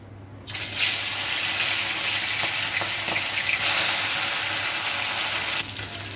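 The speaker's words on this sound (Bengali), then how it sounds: "এবার মাছগুলো আমি ভেজে নেব।" Hilsa fish dropped into hot mustard oil in a pan bursts into a loud, close, steady sizzle that holds throughout, easing slightly toward the end.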